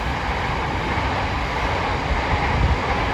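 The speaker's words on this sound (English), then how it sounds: "It's also the second oldest passenger train line in London." Passenger train rumbles steadily past on an old London railway line beside ancient woodland, a loud continuous roar of wheels and carriages with no voices.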